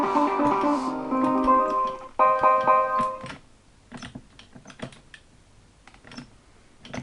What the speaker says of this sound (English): Hear the creaking on my zip stick.